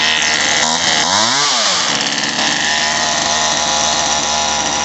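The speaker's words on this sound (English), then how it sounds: "when you get it started and it's idle and high, the chain will be moving" Poulan Wild Thing 2375 chainsaw, just after a carburetor and fuel line repair, running at high idle with the chain moving: a loud, close, continuous buzzing engine drone with a brief pitch wobble early on, then steady.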